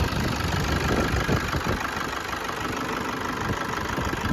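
A Toyota Innova engine idling with a steady, smooth mid-to-low hum and light ticking texture, recorded close, with no talking.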